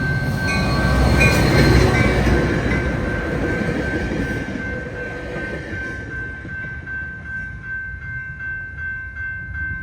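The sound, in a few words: F40PH diesel locomotive commuter train on track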